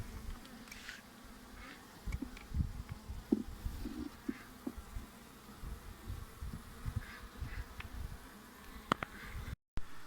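Honeybees buzzing in a steady low drone around a hive, with scattered bumps and knocks of hive frames close by and a brief dropout near the end.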